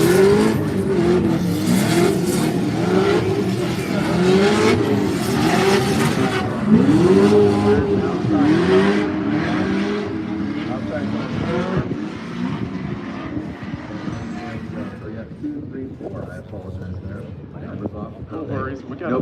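Formula Drift race cars in a Utah warm-up session, with Justin Miles leading and Cameron Sorensen chasing. Loud engines rev and bounce off the limiter through repeated shifts, with tire noise, before the sound fades toward the end. A commentator speaks over the cars.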